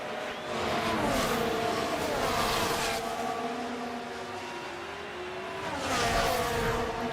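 Formula 1 race cars in F1 Manager 24 scream past at Yas Marina, their engines whining high and shifting pitch as they overtake, with a second loud wave of cars sweeping by near the end.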